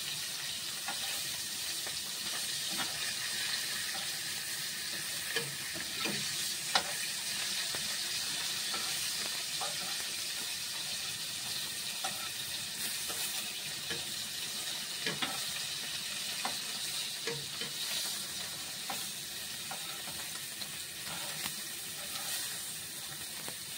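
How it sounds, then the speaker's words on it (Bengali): Dried fish (shutki) frying in a pan, giving a steady, close hissing sizzle throughout with faint scattered pops and crackles and no talk. "দেখতে পাচ্ছ শুটকিগুলো ফ্রাই হয়ে গেছে।"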